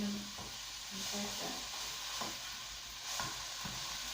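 Aldi tomato pasta sauce with stock is stirred in a pan, soft scraping sweeps repeating every second or so over a faint low sizzle, quiet and without talk.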